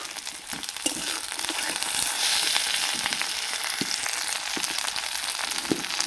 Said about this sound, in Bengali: পেঁয়াজটা হালকা করে ভাজা হয়ে গেছে। এর মধ্যে দিচ্ছি একটা টমেটো